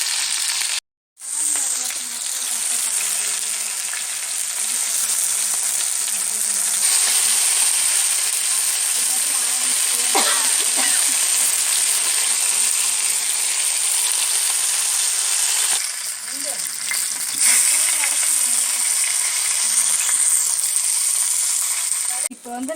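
Whole tandoori chicken frying in oil on a dosa pan, a loud, steady hiss of sizzling oil that barely varies, broken by a brief cut near the start.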